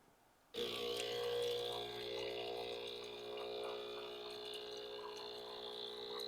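After a brief quiet moment, a Breville Barista Express espresso machine switches on with a loud pump hum and gurgling, bubbling hot water flow that continues steadily.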